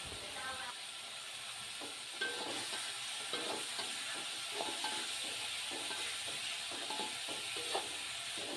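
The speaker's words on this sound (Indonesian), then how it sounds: "Nah kita goreng-goreng sampai" Salted fish fries in a pan with a steady crackling sizzle, and sharper pops and the scrape of stirring break through at intervals. The frying stays fairly close and even throughout, with no talking.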